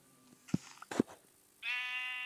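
In the video game Minecraft, a sheep bleats twice in close succession, clear and near, followed by a sustained tonal game sound.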